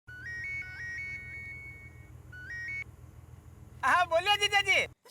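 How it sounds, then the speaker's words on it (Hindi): Outgoing phone call ringback in a Hindi TV sitcom scene, a series of repeated electronic tone patterns separated by pauses, followed by a louder warbling melodic ring burst near the end over a low background hum. "लगा दिया है फोन।"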